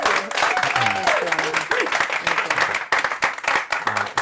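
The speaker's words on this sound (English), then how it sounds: "This is where you clap." Audience clapping at an annual evening of celebration, a broad continuous patter of applause with a voice speaking over it throughout.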